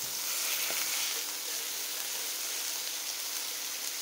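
Beef and bacon patties with onion fry in a pan, giving a steady, close hiss of sizzling fat with faint crackles throughout.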